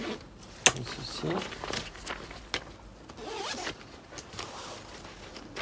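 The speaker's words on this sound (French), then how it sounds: "des fois les fermetures éclair c'est un peu galère là" A zipper on a baby stroller carrycot drawn closed in several short pulls with a sharp click or two, close by, amid quiet handling noise.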